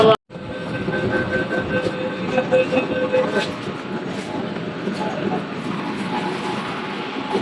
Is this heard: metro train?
yes